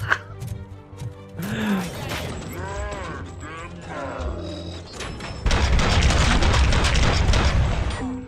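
Game combat in Robocop: Rogue City: loud mechanical clanks and creaks, then a dense burst of rapid gunfire with booming impacts, close and harsh, while a voice talks briefly.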